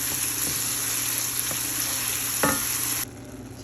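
Zucchini sizzles in a frying pan with a steady bright hiss, broken by a few soft stirring scrapes, before the sizzle abruptly drops quieter near the end; no one speaks.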